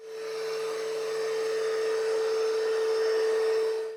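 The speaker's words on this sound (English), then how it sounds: "you will hear this vacuum when it's vacuuming just like you would the average robot vac" A robot vacuum cleaner running, a steady, moderately loud motor whine with a constant tonal hum that stays even throughout the clip, alone and with no voices.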